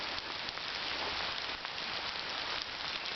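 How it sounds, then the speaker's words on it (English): Rain patters steadily and evenly on a surface at a church cemetery, a soft continuous hiss with faint scattered drops and no other sounds. "Rain's starting to come down again."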